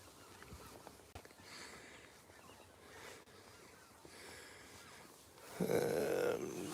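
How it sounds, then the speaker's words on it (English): Cackling geese, a small kind of Canada goose, honk from a distance in an outdoor wetland while nutria trapping. The calls come in scattered bursts and turn louder and denser near the end. "they're Canadian geese, but those are what they call cacklers"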